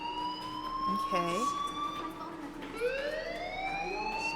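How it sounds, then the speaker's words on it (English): A fire alarm in the video game Life is Strange Remastered rings as a steady, loud electronic tone with sweeping pitches, continuous under a brief spoken word. "do you hear that fire alarm? That means you should be outside."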